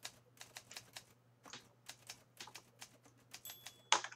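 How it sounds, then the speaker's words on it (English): Keys tapped on a computer keyboard, a quick uneven run of light clicks at close range, fairly quiet over a low steady hum, ending in one sharper, louder clack, with no talk. "I'm typing this as I talk right now."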